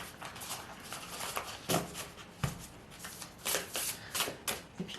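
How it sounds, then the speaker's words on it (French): Oracle cards are shuffled by hand close up, giving a continuous papery riffling with several sharper slaps and flutters and no talking. "on va prendre, d'ailleurs on va mélanger."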